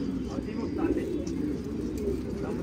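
Domestic pigeons coo in a low, continuous murmur close by on a morning rooftop, with faint chirps and small knocks over the top.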